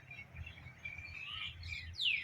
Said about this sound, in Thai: ได้ยินเสียงนกร้อง